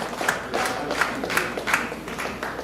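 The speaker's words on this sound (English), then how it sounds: "I want a loud round of applause for that." A crowd at a political alliance rally applauds, a sustained wash of clapping with a few louder bursts and occasional cheers, fairly distant and steady throughout.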